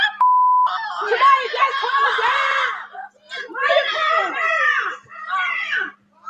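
People screaming amid a violent brawl in Chicago where chairs are being thrown, shrill overlapping cries rising in loud bursts with short gaps, close by and dominating the scene.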